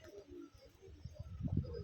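Soft pigeon coos, low and faint, repeat in a quiet outdoor setting.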